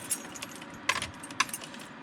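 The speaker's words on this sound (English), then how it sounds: "And when I grab my keys" A set of car keys is grabbed and jingles faintly and close by, with a few light metallic clinks and two sharper rattles, all quiet and alone.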